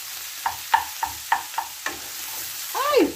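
A utensil knocks and scrapes about six times while stirring vegetables and hotdog in a frying pan, each hit sharp and close over a soft sizzle, ending in a longer scraping sweep.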